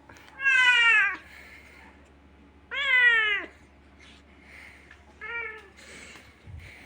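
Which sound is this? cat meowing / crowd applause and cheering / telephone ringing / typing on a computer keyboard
cat meowing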